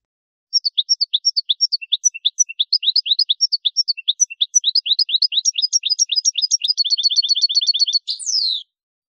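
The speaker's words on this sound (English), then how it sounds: "Goldfinch." A goldfinch sings a rapid, continuous run of bright twittering chirps and trills, close and clear against silence, ending in a short buzzy flourish.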